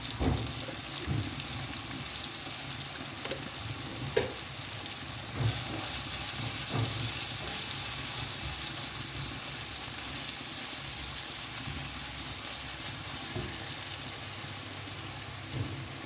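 Mutton masala sautéing in a pan with Kashmiri chilli powder, a steady close sizzle and crackle running throughout with a few faint knocks and stirring sounds.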